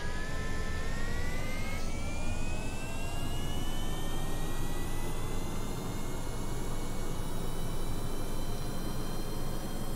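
RAPIER jet engines in Kerbal Space Program roar steadily after throttling up, a loud, continuous broadband whoosh with rising whine tones, alone without talk.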